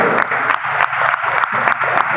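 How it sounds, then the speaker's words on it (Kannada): Audience applause welcoming Rotary district governor Mahadev Prasad at a Rotary club tenth-anniversary function: loud, close clapping from a crowd holds steady through the whole stretch, with a slightly rhythmic pulse. "ಸುಸ್ವಾಗತವನ್ನು ಜೋರಾದ ಚಪ್ಪಾಳೆಯೊಂದಿಗೆ ತಲುಪಿಸೋಣ"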